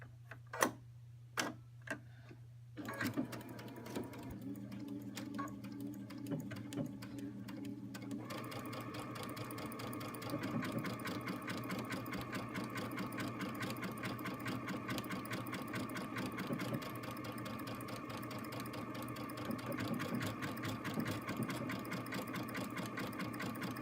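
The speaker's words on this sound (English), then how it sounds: "Let me put my foot down and let me start sewing." A sewing machine stitches a buttonhole, starting after a few slow clicks and then running steadily and fairly loud with a constant mechanical whir and rapid ticking of the needle, no voices over it.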